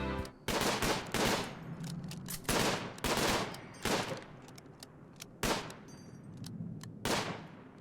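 Needle gun bursts in RimWorld combat, a rapid series of sharp, loud shots in clustered volleys with brief gaps between them, alone without talk.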